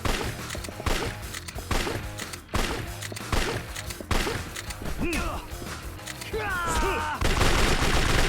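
Repeated gunfire from the video game Yakuza 3 Remastered, loud bursts and rapid shots crashing over one another with impact smacks and whooshing effects, while voices speak through parts of it.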